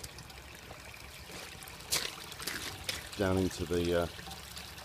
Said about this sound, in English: You can see it's all running down here